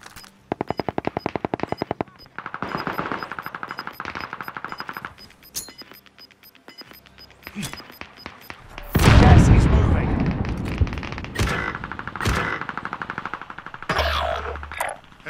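Submachine gun fire in a Call of Duty Warzone match on the Caldera map: rapid, sharp bursts of shots in quick rhythmic volleys, then a loud explosion-like blast and scattered further shots, loud and close.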